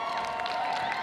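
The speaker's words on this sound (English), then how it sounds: "Let's give a big applause to all the officials who are helping out today." A crowd claps and cheers for the officials at a roller derby bout between Milton Keynes and Portsmouth, a steady, slightly distant wash of applause with a faint tonal hum underneath.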